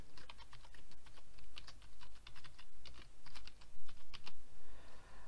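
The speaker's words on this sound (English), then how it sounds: "Simply type in your title." Fast, irregular clatter of keys on a computer keyboard as a blog post title is typed, steady bursts of close clicks with short pauses, no voices.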